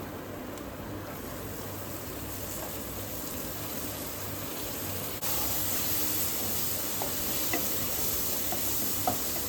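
Spinach sautéing in a pan with turmeric and asafoetida: a soft, steady background sizzle with faint occasional stirring, fairly quiet and even, growing slightly louder partway through, with no voices.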